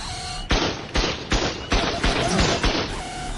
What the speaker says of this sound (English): My freaking cannons are going off on something.